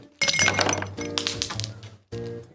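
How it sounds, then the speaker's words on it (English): Ice cubes go into a tall glass for a cocktail: a few bright, close clinks and knocks come in separate bursts with short pauses between them. "fill a tall glass with ice"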